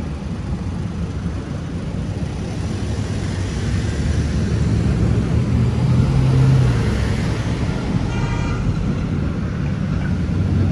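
A car passes on a busy downtown city street in Paterson, New Jersey, a continuous broad traffic rumble that swells slightly toward the middle and fades, with no voices.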